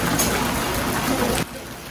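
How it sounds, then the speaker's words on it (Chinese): The three-stream waterfall at Kiyomizu-dera temple in Kyoto gives a steady, close rushing splash for about a second and a half before it drops away to a quieter background. "不要怀疑，这个是瀑布。"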